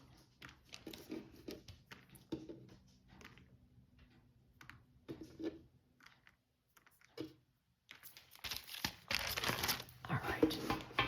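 Cut-open glassine crystal bag crinkles softly at close range in scattered bursts as it is laid down, louder rustling near the end, with quiet talk in between.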